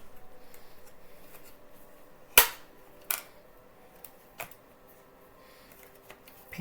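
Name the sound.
scissors cutting open plastic anti-theft packaging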